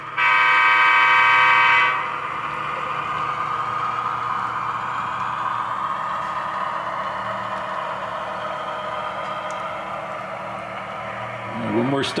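A model train horn on a layout sounds one loud, sustained honk for about two seconds, followed by the softer rumble of the running train.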